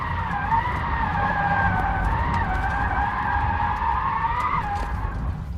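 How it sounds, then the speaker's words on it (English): A Rimac Nevera electric hypercar drifts hard, its tyres letting out a loud, sustained squeal that wavers in pitch for several seconds over a low rumble, close and with no voices. "Definitely drifts. Feel sorry for the tyres though."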